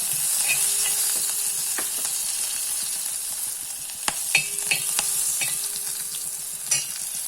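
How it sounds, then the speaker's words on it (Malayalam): Cumin, chopped ginger and green chilli fry in hot oil, a steady loud sizzle with a spoon stirring and scraping the pan at intervals. "ജീരകം മൂത്ത് കഴിയുമ്പോൾ 1 ടീസ്പൂൺ ഇഞ്ചി അരിഞ്ഞത്, ഒരു പച്ചമുളക് അരിഞ്ഞത്,"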